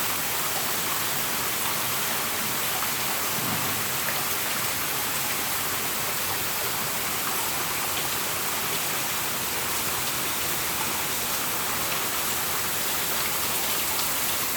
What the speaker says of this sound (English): And that's a lot of rain.